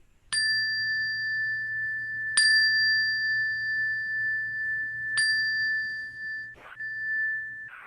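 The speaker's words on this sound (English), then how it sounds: "Now, at the sound of the chime," Four bright chime strikes ring out at an unhurried pace, each sustaining a clear tone that decays slowly, sounding the start of a Sunday church service; a low steady hum sits beneath, with no talking.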